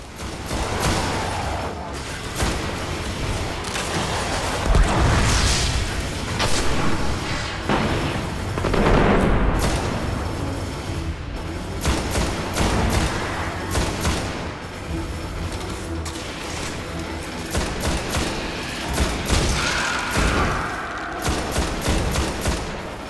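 Sustained gunfire and booming explosions of a battle in Destiny: Rise of Iron, with dense automatic bursts and heavy thuds rolling on continuously, loud and chaotic throughout.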